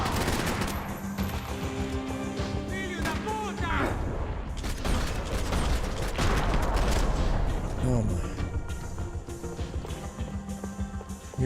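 Dense, continuous gunfire from the video game Max Payne 3, with rapid bursts and heavy shots that hardly let up, loud and close under game music and effects, while a player talks over the action.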